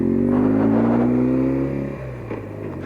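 A 1978 BMW R80/7 two-cylinder motorcycle engine hums close by just above idle, its tone creeping slightly upward before it drops back to a quieter, rougher rumble.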